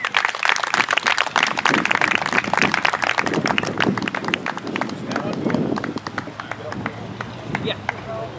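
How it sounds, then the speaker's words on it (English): Outdoor crowd at a Ward 1 councillor candidate debate at Merrymount Beach applauding steadily throughout, with talk and wind-like noise underneath. "So please give Dan a round of applause,"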